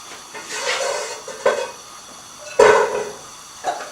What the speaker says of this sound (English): heat about 2 tablespoons of vegetable oil in a big pan. And when it's hot, add the onions